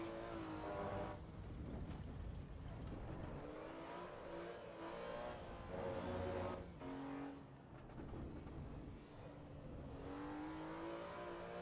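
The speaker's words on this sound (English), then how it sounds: "There is only one engine to have in a BMW, and that's the straight six" BMW E46 M3 straight-six engine with carbon fibre airbox in the Assetto Corsa EVO driving game at the Nürburgring, a continuous raspy exhaust note rising and falling through revs and gear changes, steady and fairly quiet throughout.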